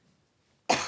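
A single sudden cough bursts out close and loud after near silence, cut off by the end of the clip.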